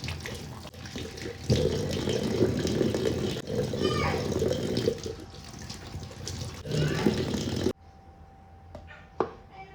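A kitchen tap runs steadily while something is washed under it, the water splashing close by for several seconds before it stops abruptly. People talk over the water throughout.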